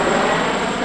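A helicopter passes overhead somewhere over Malta, its steady broadband rotor and engine roar filling the short moment at a constant, fairly loud level with no voices.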